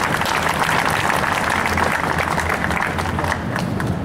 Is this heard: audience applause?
yes